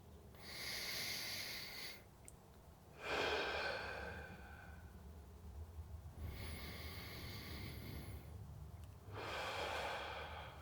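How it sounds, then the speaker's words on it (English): Slow, deep breaths in and out during an easy guided stretching routine done in bed, with three or four long, soft airy breaths close to the microphone separated by brief quiet gaps. "Deep breaths in. Slow breaths out."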